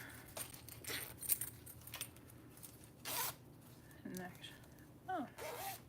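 A zipper handled while sewing a bag, quiet short zipping strokes and metallic jingles heard close, with brief speech-like murmurs in between.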